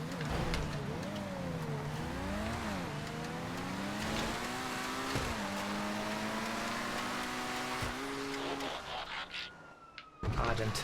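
An Ardent sports car lapping hard in GTA, the engine note climbing and dipping through the gears with loud revving and a few tire squeals, a voice talking over it throughout.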